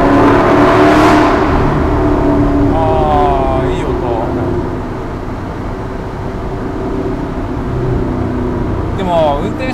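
A Dodge Challenger's engine and exhaust drone steadily from inside the car while driving, a low rumble that eases and swells again, with people talking over it.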